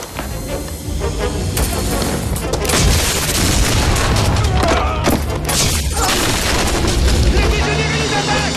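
Heavy gunfire and booming blasts from a science fiction action film form a dense, loud, continuous barrage, with voices shouting over the chaos.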